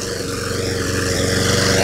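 A Toro small engine idles on choke just after a pull start, its loud, steady chugging drone carrying a fast, even firing pulse close by with no talk over it.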